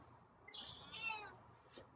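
A single drawn-out meow from a feral cat, fairly quiet, rising and falling over about a second against a faint background hum.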